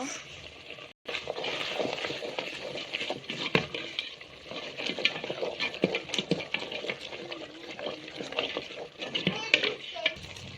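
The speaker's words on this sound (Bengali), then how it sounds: "এখন আমরা এটা নাড়ি দিয়ে নেড়ে দিব।" A spoon stirring beef curry with potato and pointed gourd in a pot: continuous close scraping, clinking and soft sizzling patter with no break in the busy texture.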